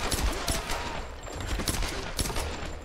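Rapid bursts of gunfire from the video game Tomb Raider, a dense fusillade of repeated shots with sharp transients at a steady close range, no talk over it.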